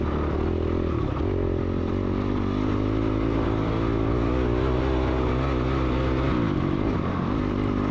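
Dirt bike engine during a woods race, droning loudly and steadily in lower gears with small shifts in pitch as the rider changes gear, close and continuous with no talking.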